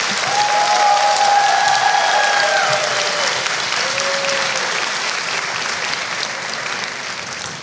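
Sustained applause from the audience at a chemistry faculty graduation ceremony, loud and even throughout and easing slightly toward the end, with faint voices and a few whistles running through it.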